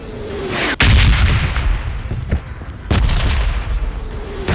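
Grenade blasts and explosions ring out in a battle-royale shooter game, with a sharp loud boom followed by a rumbling tail, then another heavy burst of blasts a couple of seconds later, all close and forceful.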